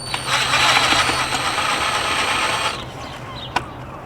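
A 10 mm bolt on a Honda Accord heat shield (1.5 or 2.0 engine) is loosened with a ratchet and socket, close by: a steady mechanical whir for over two seconds, then quiet with a single sharp click.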